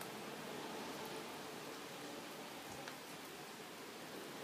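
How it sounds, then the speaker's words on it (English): Steady rain falling outdoors, a dense, even hiss of drops with no pauses, with occasional faint louder drops and no voices. "Yes, it's raining,"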